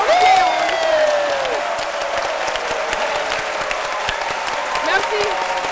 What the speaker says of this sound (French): je voudrais que vous fassiez un tonnerre d'applaudissements